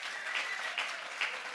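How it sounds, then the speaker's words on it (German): An audience at a science slam claps steadily in a dense, even patter of applause, moderately loud, with a few brief swells but no voices. "Okay, 8 Punkte."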